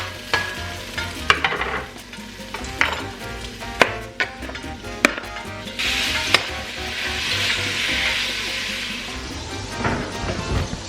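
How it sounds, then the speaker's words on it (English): Meat hits hot onions in a pan while patacones are being made. A loud, sustained sizzle swells over the scene, punctuated by sharp utensil clacks and stirring knocks. "so I'm just gonna throw in the meat right now"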